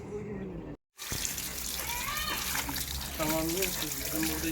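Water is applied to an RKS RZ250S scooter during polishing and ceramic coating work, a continuous rushing spray heard close and fairly loud after a brief silent gap, with faint voices and tonal sounds mixed in.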